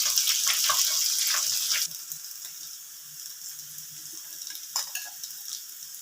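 Potatoes frying in a pan, with a bright sizzling hiss that is loudest at first and then settles into a quieter, crackling simmer with occasional stirring clicks.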